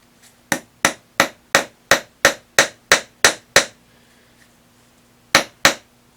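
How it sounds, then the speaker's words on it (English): A hammer strikes nails into wood for string art in a quick, even run of about ten sharp blows, then a pause and two more hits. "you just want to hammer them in a little bit"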